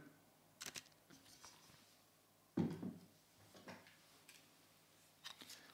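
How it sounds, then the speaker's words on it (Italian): A Fujifilm camera's mechanical shutter fires with small, faint clicks and one louder mechanical snap in a quiet room. "Questo è l'otturatore della Fuji, meccanico, eh?"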